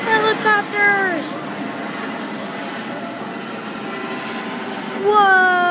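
Video-game helicopters from a helicopter mod give off a steady, mid-level whirring drone throughout, with excited voices briefly heard at the start and again at the end.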